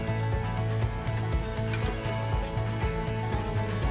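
Thick meat cuts sizzling over a hot corner of a wood fire on a farm, a steady close crackle and hiss running continuously with a low rhythmic hum beneath.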